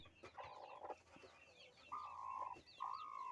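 Hen clucking softly near her chicks in a farmyard, a few low drawn-out clucks with faint chick peeps, close and quiet.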